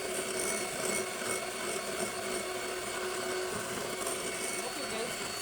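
A mixer hums steadily through orange cake batter made with sugar and orange juice, a moderate, unbroken motor whine with a voice faintly underneath.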